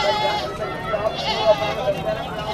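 A goat bleats amid a busy Eid livestock market in Pakistan, the calls rising briefly over constant crowd chatter and nearby talking.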